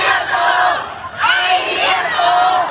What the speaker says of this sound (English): coming out to cheer them on.